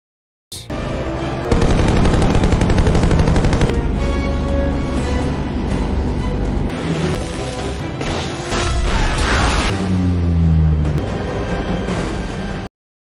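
Rapid machine-gun bursts and heavy gunfire from an action scene in The Expendables film ring out loudly and almost continuously, mixed with crashes, impacts and a dense soundtrack.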